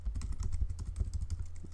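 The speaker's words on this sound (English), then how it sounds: "So I'm going to type in site" Quick, light clatter of keys on a computer keyboard, a brisk irregular run of close, soft clicks with no voice over it.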